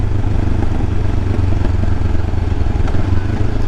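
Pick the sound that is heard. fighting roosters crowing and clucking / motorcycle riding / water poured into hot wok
motorcycle riding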